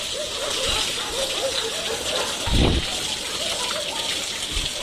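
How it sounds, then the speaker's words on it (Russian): Water poured and splashed into a dirty corner of an animal enclosure at a stray animal rescue, a continuous wet hiss with a louder gush in the middle and a few splats, with voices in the background. "Налей туда еще немножко воды"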